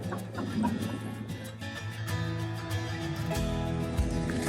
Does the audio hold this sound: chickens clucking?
yes